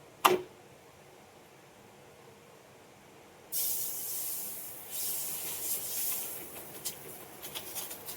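A mixed jowar, bajra, ragi and rice flatbread (bhakri) hits a well-heated griddle, a sharp tap followed by a steady close hiss and sizzle that swells and crackles toward the end.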